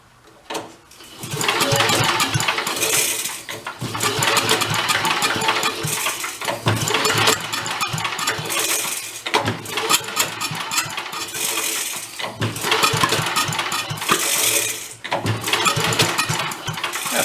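A vintage Mite-e-Lite generator's small engine is pull-started repeatedly, sputtering and popping back through the carburetor in loud, uneven bursts that run several seconds before cutting out and retrying.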